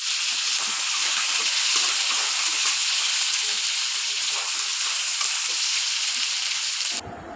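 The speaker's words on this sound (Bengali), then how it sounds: "মাংসগুলা একে একে দিয়ে ভালোভাবে নেড়ে চেড়ে নিব।" Meat pieces frying in hot oil, a strong, steady close-up sizzle with light stirring underneath, running unbroken until it drops away abruptly near the end; no one speaks.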